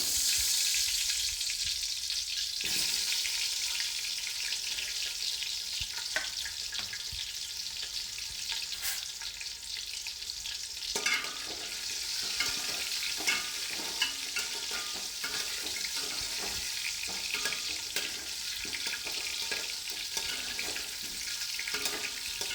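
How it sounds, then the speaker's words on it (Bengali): Salted, turmeric-coated potato pieces fry in hot oil in a kadai, giving a continuous loud sizzle broken by occasional clinks and stirring scrapes, with no talking. "যে তেল গরম হয়ে গেছে, নুন আর হলুদ মাখানো আলুগুলো ভেজে নেব"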